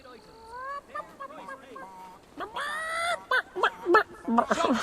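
A chicken clucks in the video game Fable 3, with a run of short, rising, squawky calls that get louder and busier toward the end, alongside a voice.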